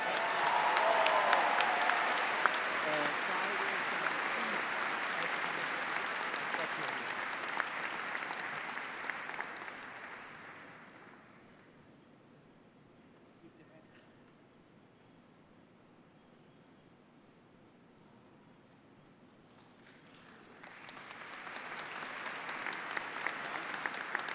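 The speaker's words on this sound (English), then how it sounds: "Let's give him a big round of applause." Applause from a large graduate commencement crowd at Northeastern University fills a big hall, fades to near quiet midway, then swells again toward the end.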